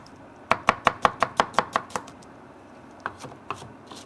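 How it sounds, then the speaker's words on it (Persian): Knife finely chopping onion on a board for a kichri-and-kofta dish, a quick steady run of about ten close taps, then a short pause and a few slower chops. "پیاز میده میده میسازم"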